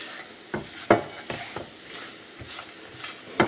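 Chopped nuts, figs and dates being mixed with cardamom powder in a pan, a soft background sizzle broken by several separate scraping, clacking strokes of a spoon at irregular intervals, near and without voices.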